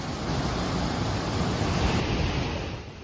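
Centre Falls on the Lady Evelyn River pours in a steady, loud broadband roar of rushing water, close by and unbroken for the whole stretch, with no voices.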